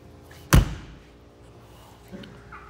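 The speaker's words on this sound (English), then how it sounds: "Coming around the side, we have the cargo door." The cargo door of an Outback 221URS camper trailer swings shut with a single loud, close slam, leaving a quiet outdoor tail and a faint knock afterward.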